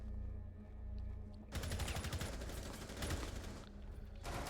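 Rapid automatic gunfire bursts in a Rainbow Six Siege esports match, with Zofia and Jaeger operators trading shots; loud, dense volleys break in after a quieter start, continuing with brief gaps.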